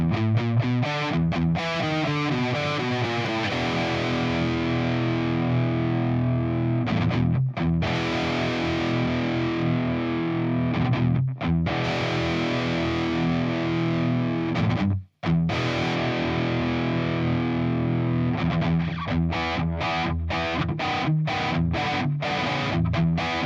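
Heavily distorted electric guitar plays a sustained riff, thick and loud, with a few brief pauses between chugging chords.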